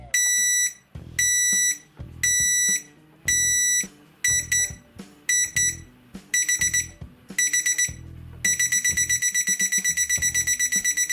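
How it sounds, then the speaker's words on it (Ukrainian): An 8082T digital clock-thermometer-hygrometer alarm gives loud, shrill electronic beeps in repeated bursts, speeding up into a rapid continuous beeping pattern at the end. "Будильник тут дуже голосний, динамік буквально розривається"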